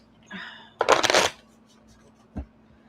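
Tarot cards being shuffled by hand, a dense riffling burst after a brief softer rustle, followed later by a single soft tap, close and quiet indoors.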